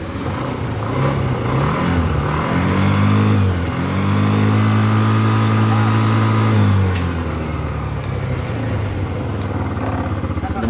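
A carbureted Yamaha Xeon scooter engine revs up hard, rising and falling in pitch through several throttle blips before settling back toward idle, loud and close with steady background noise.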